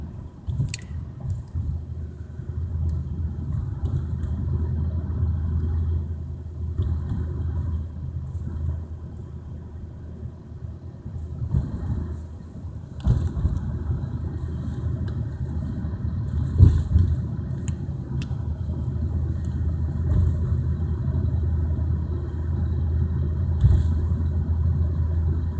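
Sparse car traffic on a quiet road in Rapid City, South Dakota, a low steady rumble of passing vehicles with no talk over it, one or two cars swelling a little closer partway through.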